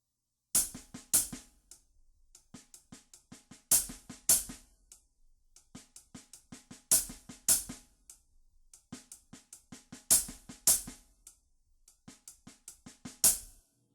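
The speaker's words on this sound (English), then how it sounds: "Right before the backbeat on two, you have an accent on the hi-hat" A tight funk drum groove repeating in steady bars, with crisp hi-hat strokes, snappy backbeats and a sharp accented hi-hat hit, played alone and fairly loud.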